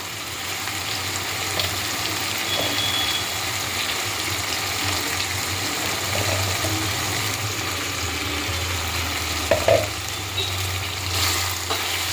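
Softened cooked vegetables for dal khichdi, mixed with turmeric and chili powder, sizzle steadily in a pan while being stirred, a close continuous hiss with occasional faint scrapes of the spoon.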